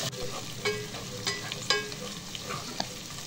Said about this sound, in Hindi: तो देखिए अदरक लहसुन भी अच्छे से फ्राई हो चुका है, लाइट ब्राउन कलर का हो चुका है।